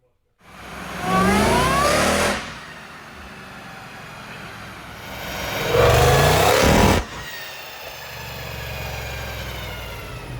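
A supercharged Roush Mustang engine revs hard on a dyno in two loud, rising bursts with tires spinning, settling to a steady idle between and after the pulls.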